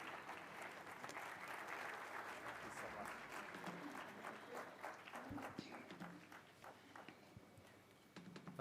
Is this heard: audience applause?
yes